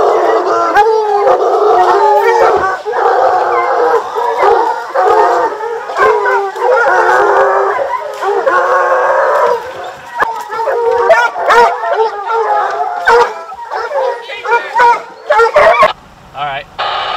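Bear hunting dogs howl and bay nearly nonstop in a loud, overlapping chorus on a mountainside, with yips and barks breaking through before the noise thins out near the end.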